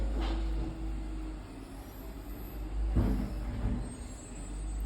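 A garbage truck collects bins outside on bin day, heard from indoors as a steady, loud low engine rumble with mechanical clanks and a hiss near three seconds.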